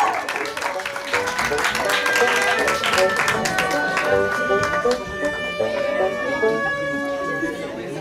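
An audience at a quinceañera party claps in sustained applause, a dense wash of hands under loud music and a voice talking over it.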